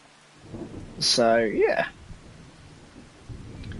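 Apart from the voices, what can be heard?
rain and thunder in Farming Simulator 2025 video game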